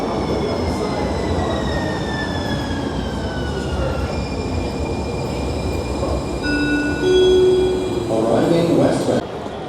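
San Francisco Muni N-Judah light rail train rumbles loudly underway, with long high wheel squeals sliding in pitch and a steady roar of the car interior; voices murmur in the background.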